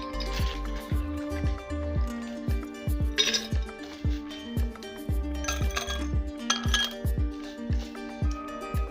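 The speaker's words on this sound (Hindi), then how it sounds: "बर्फ़ अपने टेस्ट के मुताबिक कम या ज़्यादा आप डाल लें" Ice cubes are dropped into a jug for plum juice, clinking sharply against the glass and each other in a close, irregular run of knocks and rattles with no talking.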